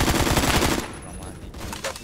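Gunfire in the Roblox shooter Phantom Forces, a rapid burst of automatic shots in the first second, then quieter scattered pops and game sounds.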